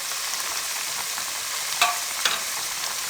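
Chopped medium potatoes go into a pan of frying peas, bringing a steady sizzle with a couple of sharp clatters as they land and are stirred, close and without talk.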